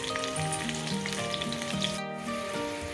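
Stuffed okra (bendakaya) filled with masala frying in a pan, a steady close sizzle running throughout with a brief dip partway and faint tonal hum underneath; no talking.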